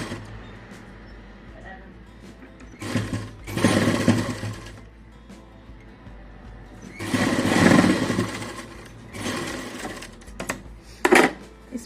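A sewing machine stitching a blouse runs in bursts: loud whirring runs separated by pauses, close and prominent, with quieter stretches between stitching passes.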